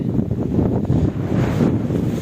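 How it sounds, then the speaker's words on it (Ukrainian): Strong wind buffets the microphone in a continuous low roar, loud and gusty throughout, with no talking. "Вітер капець."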